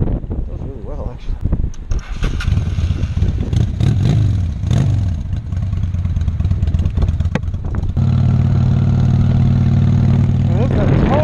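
A 2000 Honda Shadow 600 motorcycle engine rumbles while riding, a loud, low throbbing drone that shifts pitch as it revs and settles, with a person talking over it.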